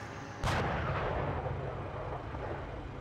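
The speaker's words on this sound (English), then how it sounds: "We're taking fire here. Traverse right. 3-1, we're taking fire here." Gunfire in the Steel Beasts tank simulator game: one sharp, loud blast hits suddenly, then a long rumbling decay rolls on underneath for the rest of the moment, with no voices.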